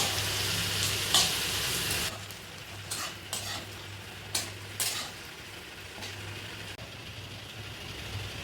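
Meat cooking with spices in a pot for biryani gives a steady sizzle with several louder stirring scrapes, set against a constant low hum, with no talking.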